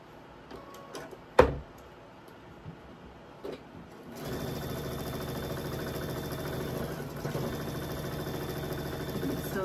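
A sewing machine stitches quilt block pieces for a Virginia floral state block, a steady mechanical whir running continuously after a few scattered handling clicks and one sharp knock at the start.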